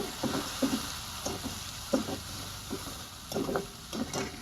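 Green chillies, onion and tomato frying in oil in a pan for buttermilk kadhi, a soft steady sizzle with intermittent clinks and stirring scrapes close by.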